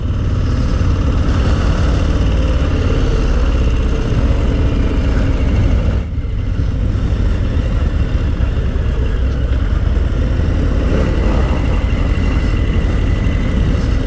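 Harley-Davidson Low Rider S motorcycle on the road, a loud, continuous low engine drone with wind rush, briefly dipping midway before resuming, no voices.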